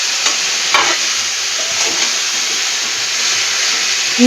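Mixed vegetables for shukto fry in a pan with a bright continuous sizzle, punctuated by a few scraping stirs of a spatula, steady and close, no talk.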